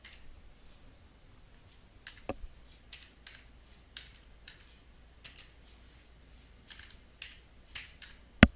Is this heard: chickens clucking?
no